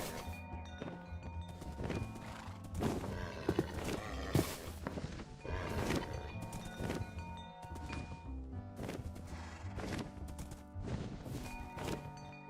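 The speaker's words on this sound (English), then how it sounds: "Finally, a fast horse." A horse in the RLcraft Minecraft modpack gallops, with rhythmic clip-clop hoofbeats and thuds running steadily throughout, close and clear.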